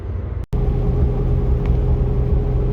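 Cabin sound of a classic Mercedes W108 on the move: a steady low rumble of engine and road noise fills the car, with a short break near the start and no talking.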